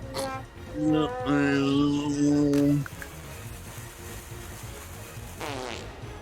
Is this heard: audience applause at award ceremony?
no